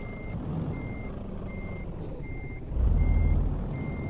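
A very wide truck in Euro Truck Simulator 2 emits evenly spaced reversing beeps, about six in a row, over a low engine idle that swells louder near the end; no speech.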